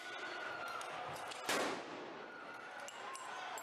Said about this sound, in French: puis jettent une grenade.